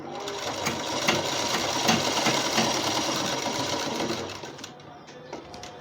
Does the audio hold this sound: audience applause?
no